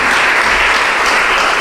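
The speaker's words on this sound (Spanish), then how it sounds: "Den un aplauso al Señor." A church congregation claps together in praise during a Spanish-language service, a dense, loud wash of applause that fills the whole moment without pause.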